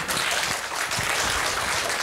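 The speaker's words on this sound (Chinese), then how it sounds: "那我们现在用热烈的掌声呢来欢迎温老师" A seminar audience at a pottery lecture claps warmly to welcome a speaker, a dense, even burst of many hands that fills a brief moment without voices.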